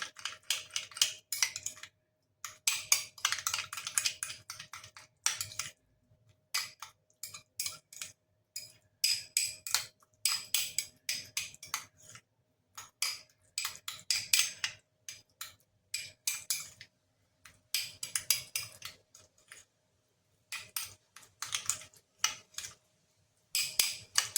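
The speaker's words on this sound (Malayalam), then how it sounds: "എന്നിട്ട് നിങ്ങൾ ഈ സ്പൂൺ കൊണ്ട് തന്നെ ഒന്ന് നല്ല പോലെ ഇതൊന്ന് മിക്സ് ചെയ്താൽ മതി" A spoon stirs a warm face-pack paste into a creamy consistency in a small bowl, making bursts of quick, close clicking and scraping strokes separated by short pauses.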